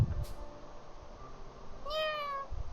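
A cat meows once in the video game Fuga 3, a short rising-falling call near the middle, fairly clear over a quiet background with faint thumps at the start and end.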